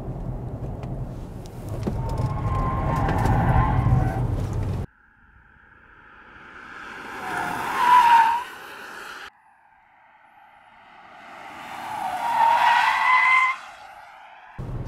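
Ford Mustang Mach-E tires squealing through corners while drifting with traction control off, three loud drawn-out screeches separated by brief pauses, heard from nearby with wind and road noise.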